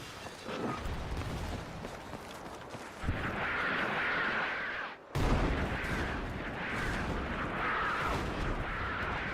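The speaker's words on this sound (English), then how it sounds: "Artillery. Or an airstrike." Artillery or airstrike fire in the Battlefield 6 REDSEC video game, a sustained rumble of distant blasts and crackling fire, with a sharp break midway before the barrage resumes.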